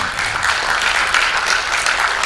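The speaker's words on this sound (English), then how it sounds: "I think we should give her a good clap for that." Conference audience applauding at a corporate outlook session, a dense, steady burst of many hands clapping throughout, close and loud with no talk over it.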